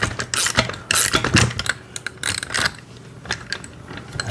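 A 14 mm and 13 mm nut is tightened onto the axle of a battery-powered 6V kids ride-on motorcycle, producing irregular close metallic clicks, ratcheting taps and small clinks in quick bursts with short pauses.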